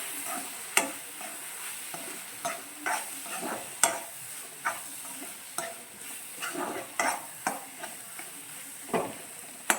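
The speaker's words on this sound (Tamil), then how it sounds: "மஞ்சத்தூள், தனி மிளகாய்த்தூள், மல்லித்தூள் எல்லாத்தையும் சேர்த்து நல்லா மிக்ஸ் பண்ணுங்க." Turmeric, chilli and coriander powders stirred in a pan, with repeated scraping strokes of a utensil against the metal over a faint sizzle, steady and close, with no talking.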